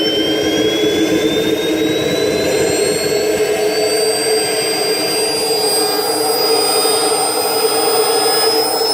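A KingTech K-60 model jet turbine in a model F-16 roars steadily and loudly with a high rising whine, spooling up continuously without pause as the starter spins it up.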